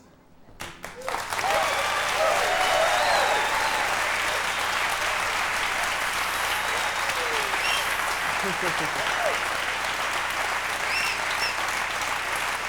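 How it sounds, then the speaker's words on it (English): A studio audience at a Neil Young Centerstage taping breaks into loud, sustained applause after a brief quiet start, with scattered whoops and cheers over the dense clapping. "We'll start with applause."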